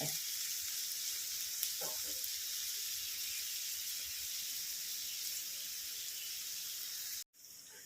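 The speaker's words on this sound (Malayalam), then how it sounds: "ഇഞ്ചി മുളക്ക് വാങ്ങി ഇട്ട് കൊടുക്കുക ഇളക്കി കൊടുക്കാം നന്നായിട്ടൊന്ന് വഴന്ന് വരട്ടെ" Ginger and green chili sautéing in a hot pan, a steady bright sizzle throughout with occasional stirring scrapes, ending in an abrupt brief cut near the close.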